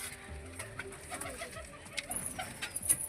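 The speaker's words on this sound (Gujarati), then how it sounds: "કબૂતર છે" Pigeons coo faintly in a low, repeated warble under a background of household noise and occasional clicks.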